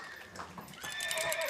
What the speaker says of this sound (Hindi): यहाँ से घोड़े भाग के आएंगे ऐसे